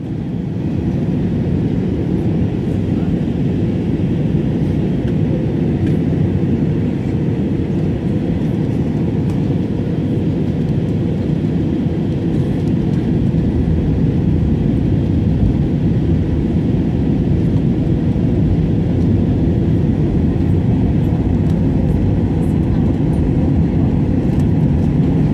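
Airplane cabin on approach to land at Ribeirão Preto, a steady loud low engine and airflow roar that holds evenly throughout with no talk.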